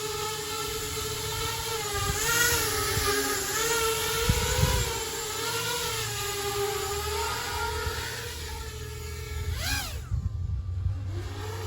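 A Transtec-frame FPV quadcopter drone hovers close by, its motors whining in a steady high-pitched buzz that wavers up and down in pitch as the throttle shifts, then spools down near the end.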